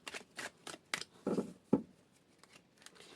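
Tarot cards are shuffled and flipped by hand in a quiet room, giving a series of short, crisp riffling and slapping bursts, close and fairly soft.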